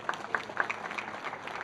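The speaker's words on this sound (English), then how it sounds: "Heather particularly deserves a round of applause also." An audience at a seminar gives a round of applause, steady soft clapping heard from a distance with a few distinct claps standing out, continuing without talk.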